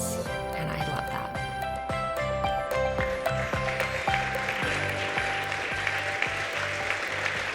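Sustained audience applause at a healthcare awards event, dense clapping from a large crowd that holds steady throughout, with faint background music layered under it.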